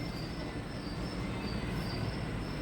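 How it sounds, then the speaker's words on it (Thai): A passing train rolls by with a continuous heavy rumble and a thin, sustained high wheel squeal over it, fairly loud and unbroken, with no voices. "train is coming."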